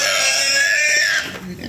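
A grumpy mother pig, roused from sleep after arriving at a new home in Zeeland, lets out a loud, drawn-out squealing grunt up close, tapering off into softer snorts.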